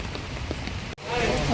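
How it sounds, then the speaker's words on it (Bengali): Steady heavy rain pours down at dawn at Hatirjheel, broad hiss throughout with a brief dropout midway; a faint voice murmurs underneath. "ঝড় ধারায় বৃষ্টি হচ্ছে।"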